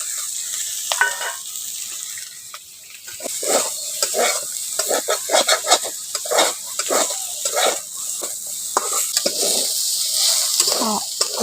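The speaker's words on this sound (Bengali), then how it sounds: "আলুগুলোকে আদার সঙ্গে একটু অল্প করে ভেজে নিয়েছি" Thinly sliced potatoes frying with ginger in a pan for a chichinga dish, a steady sizzle broken by repeated stirring scrapes and clatters, close and fairly loud with no voices.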